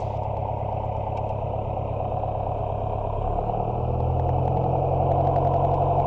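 A small aircraft's piston engine drones steadily and loudly near the cockpit while taxiing, and its pitch shifts slightly partway through as the revs change, with no talk.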